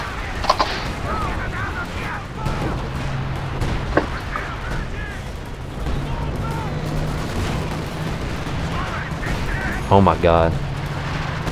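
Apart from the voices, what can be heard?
artillery barrage firing in Company of Heroes 2 video game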